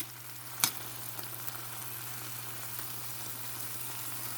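Onion, hot pepper, garlic and tomato sautéing in a pan over low heat, giving a faint steady sizzle with one brief clatter near the start.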